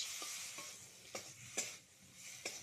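A spice paste of tomato, green chili, ginger, garlic, onion and cumin being sautéed in a pan, with soft, faint sizzling and a few distinct scraping stirs spaced through the stretch, close by with no talking.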